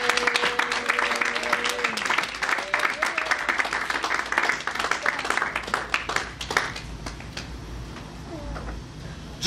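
A church congregation claps, a lively ragged patter of many hands with a few voices mixed in, thinning out toward the end.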